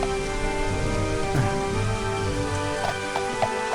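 Steady rain hisses through the video game Daggerfall, a dense continuous wash with occasional brighter drops and a faint tonal music bed running underneath, no voices.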